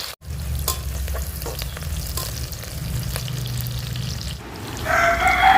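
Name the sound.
onions frying in oil in pressure cooker for biryani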